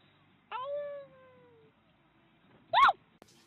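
A cat gives one clear, drawn-out meow that slides downward and fades, followed by a short sharp noise after a quiet pause.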